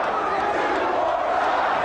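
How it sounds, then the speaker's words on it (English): An ECW wrestling arena crowd roars and shouts in a continuous, dense wall of cheering voices that stays loud throughout. "The crowd demanding more carnage."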